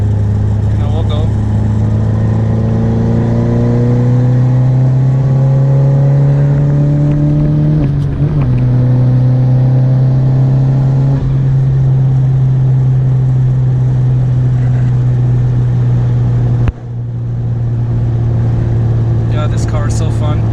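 A 10th gen Honda Civic Sport hatchback accelerates with a steady, loud engine drone, its pitch climbing gradually with a brief gear-change dip midway, then continuing to rise to a second break near the end.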